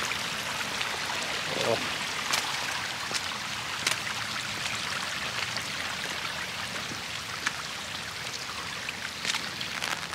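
Rainwater streams and trickles down a stone path at Hiroshima Castle during heavy rain, a steady close wash of running water with scattered drips, and a voice makes a brief remark over it.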